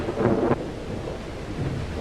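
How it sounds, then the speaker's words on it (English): A heavy thunderstorm on a dark night: a loud roll of thunder rumbles over a steady wash of pouring rain, then fades back into the constant downpour. "Storm's just as bad as ever, isn't it? Worse."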